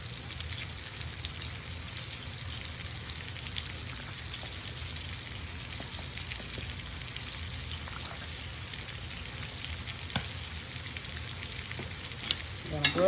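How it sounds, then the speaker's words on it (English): Sliced apples with nutmeg and cinnamon fry in a pan with a constant, even sizzle that holds at a low level throughout, while a few soft clicks and scrapes of stirring break through near the end. "I'm gonna go ahead and give it a stir."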